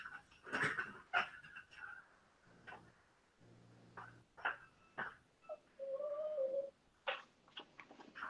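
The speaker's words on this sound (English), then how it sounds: "Hold on, I gotta let a whiny dog outside." A dog whines and whimpers indoors in short, uneven bursts with pauses between, including one longer drawn-out whine, fairly close and moderately quiet.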